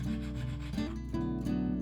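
Close, steady rubbing strokes of sanding on wood, a rasping back-and-forth scrape repeated in quick succession.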